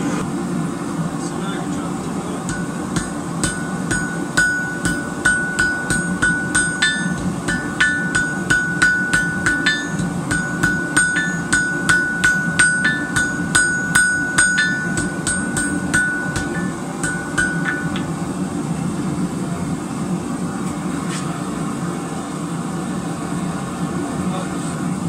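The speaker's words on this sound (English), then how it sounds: "Forge weld it." Metal is struck with a hammer to forge weld a wheat twist, a fast, ringing series of sharp blows over a constant background roar, likely the forge, the hits bunching into rhythmic runs in the middle.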